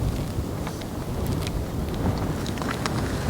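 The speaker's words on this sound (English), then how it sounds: "This wind has just got us in a bad spot." Steady wind blowing outdoors during a bear hunt, a continuous low rumble with buffeting against the microphone, broad and unbroken throughout with no voices.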